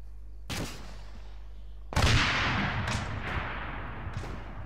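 A rocket launcher fires with a sharp, loud crack in a military shooter game, followed by several more snapping reports and a rumbling tail, all standing out against quiet background ambience.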